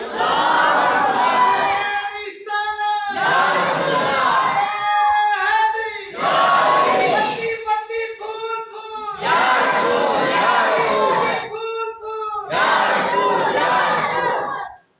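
Crowd chanting the Nara-e-Takbeer slogan in rhythmic bursts, five loud collective shouts, each a second or two long, separated by short pauses, full and close.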